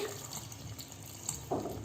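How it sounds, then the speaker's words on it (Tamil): Tamarind water pours and splashes into a pot of fish curry in a soft, steady wash, with a brief louder gush near the end. "புளி கரைச்சி வச்சுருக்கோம். குழம்புக்கு தேவையான அளவு புளி, அதையும் இதில் ஊற்றி"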